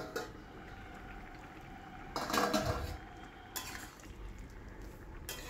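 A metal pot lid lifted and vegetables stirred in a pan of cooking papaya, clinks and scrapes of utensil on metal over a low simmering bubble, with a louder clattering burst midway, no voices.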